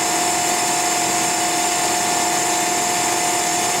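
A Fives Cinetic RK 350-20 twin grip CNC centerless grinding machine running steadily, giving off a continuous loud mechanical whine with a sustained high tonal hum and constant broadband noise, with no pauses.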